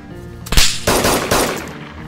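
Gunfire in the DayZ Standalone video game: a sharp, loud burst of rapid shots followed by a couple more heavy reports ringing out and decaying, with no talking.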